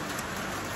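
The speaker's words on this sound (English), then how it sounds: "I love the noise of that rain." Steady rain falls and patters on surfaces outdoors near a firepit, a dense, even hiss with no pauses or voices.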